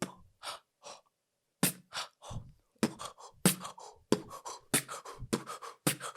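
A man demonstrates a beatbox-style breathing technique: a quick series of sharp, close gasps and forceful exhales in a choppy rhythm, with brief pauses between bursts and no speech.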